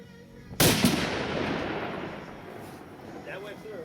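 A single booming shot from a Barrett M99 .50 caliber rifle fired with standard ammunition cracks out loud and close, followed by a long rolling echo that fades slowly, with faint voices afterward.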